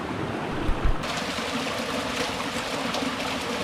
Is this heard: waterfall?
yes